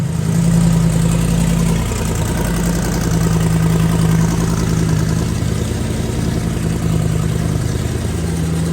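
A car engine idles steadily through its warm-up cycle, a constant low hum with no change in revs and no talking.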